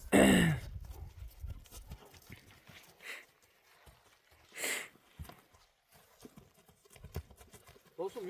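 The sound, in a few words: horse hooves walking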